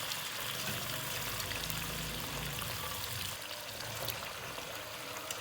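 Boiled ojri (tripe) lifted out with a pakora strainer over ghee gives a steady, close dribbling and pouring wash of liquid that runs without a break, with no talk.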